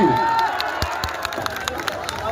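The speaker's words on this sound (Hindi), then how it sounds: "इसने दोनों टीम को जोरदार ताली बजाकर बढ़ाई" After a match, a crowd claps loudly for both teams, with scattered sharp hand claps over a murmur of cheering voices and a spoken voice at the opening.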